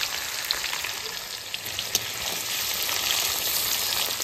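Cumin, bay leaf and dried red chilli sizzle in hot oil, a steady crackling hiss with small pops, close and continuous.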